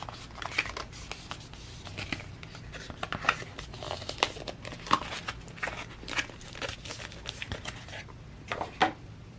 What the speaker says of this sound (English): Fold all the different tabs.